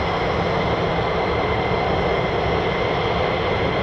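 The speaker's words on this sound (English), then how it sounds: "I can hear now in the distance another aircraft started up" Distant military jet engine spooling up at an air force base, a steady broad roar holding at even loudness throughout with no talk.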